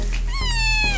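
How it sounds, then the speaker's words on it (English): A kitten meows once, a clear rising then falling cry heard close and loud over a steady low outdoor hum, with no talking. "Kitten."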